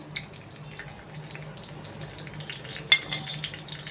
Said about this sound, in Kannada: ಇದಕ್ಕೆ ನಾವು ಇಂಗಿನ ಒಗ್ಗರಣೆಯನ್ನು ಕೊಡೋಣ ಈಗ ಕಾದಿದೆ ತುಪ್ಪ ಕಾದಿದೆ